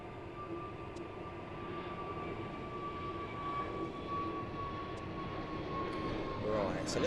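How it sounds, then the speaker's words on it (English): An Airbus A320neo being pushed back at Gatwick gives a steady, moderately distant engine hum with a sustained whine that swells slightly, with voices talking faintly over it. "ETA A320 Neo just being pushed as well"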